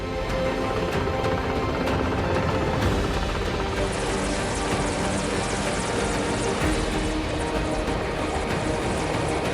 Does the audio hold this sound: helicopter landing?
yes